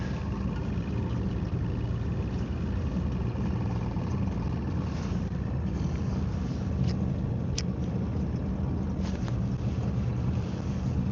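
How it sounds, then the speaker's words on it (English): Motorboat motoring out across Flathead Lake, a steady low engine rumble mixed with wind buffeting and water wash, continuous and close from on board. "we are motoring on out here"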